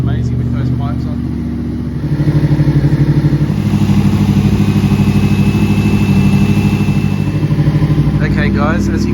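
A Honda VFR800F (RC46, VTEC) motorcycle warming up, idling loudly up close through aftermarket pipes with a steady, pulsing rumble that briefly dips, then settles into an even throb.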